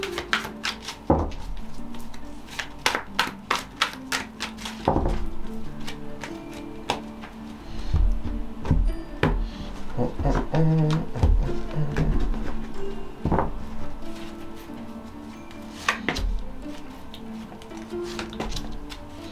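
A deck of tarot cards is shuffled by hand nearby in bursts of quick, crisp riffling taps and slaps with short pauses between, fairly faint and without talk.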